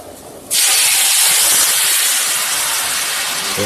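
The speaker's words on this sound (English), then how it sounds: "I'm going to move my sauce to the other pan because I want to get all that extra stuff in it too" Wine pan sauce poured into a hot steak pan bursts into a loud, steady sizzle that starts abruptly and hisses on continuously without fading.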